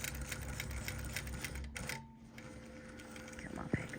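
A longarm quilting machine stitches with a fast, even mechanical chatter for a couple of seconds, then falls mostly quiet, with a single sharp knock near the end; the sound is close but soft.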